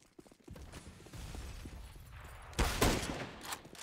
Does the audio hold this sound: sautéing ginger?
no